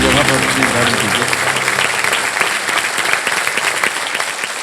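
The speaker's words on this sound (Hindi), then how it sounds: "तालियों के साथ हम चाहेंगे कि उनका स्वागत हो" Studio audience applause on a Hindi TV quiz show set (Kaun Banega Crorepati season 16) as new contestants are welcomed: loud, dense, sustained clapping throughout, with a host's voice heard briefly under it at the start.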